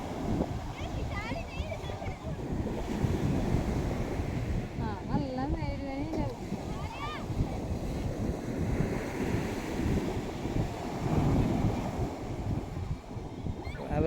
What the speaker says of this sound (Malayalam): നല്ല വലിയ തിരമാല വരുന്നു